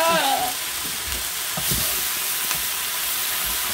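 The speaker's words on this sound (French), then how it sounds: "Donc là, on va mettre les saucisses." Sausages sizzle loudly in a hot wok of vegetables, a dense close frying hiss with a few stirring scrapes and brief voices underneath.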